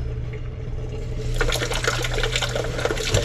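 Cool water is poured into the steel liner of an Instant Pot, starting as a soft trickle, then swelling into a steady, close-up splashing rush over a low appliance hum.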